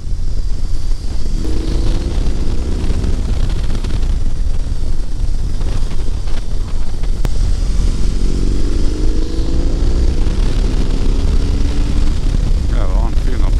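A BMW R18 Classic motorcycle accelerating on the road, its engine note rising twice over heavy wind rush at the microphone, loud and close throughout.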